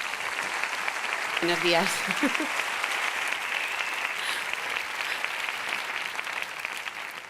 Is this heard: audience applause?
yes